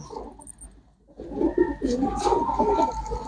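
Pigeons cooing in a loft where birds are shown for sale, a low rolling coo repeated several times at close range, rising after a brief quiet start, with faint chirps above.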